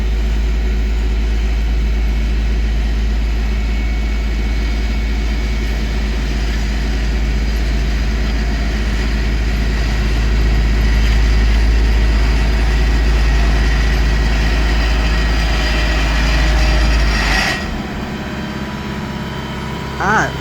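An asphalt paving machine's vibrator runs with a deep, steady low rumble and vibration that cuts off abruptly near the end when switched off, leaving a quieter engine idle.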